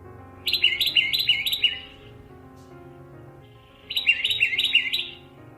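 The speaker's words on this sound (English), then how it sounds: "And here's a song of the oak titmouse." Oak titmouse song in open oak woodland: two bright bursts of rapidly repeated whistled phrases separated by a short pause, clear and fairly close.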